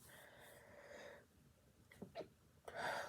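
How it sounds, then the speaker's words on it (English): A single sharp sneeze bursts out after a few breathy inhales, close and fairly loud, following a quiet stretch. "Oh, I have to sneeze."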